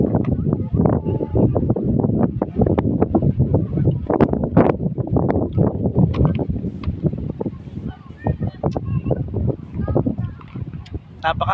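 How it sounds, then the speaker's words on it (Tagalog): Strong, gusty wind buffets the microphone at the Caliraya lake view in Lumban, Laguna, a loud, uneven roar with sharp bursts throughout, and faint background sounds. "Napakahangin dito mga kapards."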